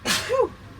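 A single sharp sneeze, loud and close, with a breathy burst followed by a short voiced tail.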